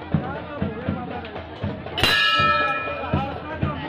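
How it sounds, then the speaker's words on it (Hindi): At a crowded Hindu temple, a metal temple bell is struck once and rings out in a bright clang that decays slowly, with people talking and bustling before and around it. "पहले घंटा बजाओ भाई।"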